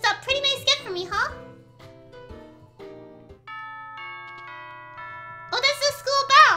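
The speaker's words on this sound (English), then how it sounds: "Oh, that's the school bell!" Electronic school chime in the video game Pokemon Ultra Sun and Moon, a short sequence of sustained bell-like tones ringing alone between bursts of a voice talking before and after.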